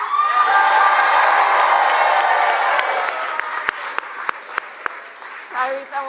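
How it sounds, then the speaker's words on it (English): A large crowd at a Labor Day political rally in a Detroit union hall claps and cheers loudly and steadily, then the applause thins out into scattered whoops, individual claps and a few shouts toward the end. "Can we hear it for Tyrese?"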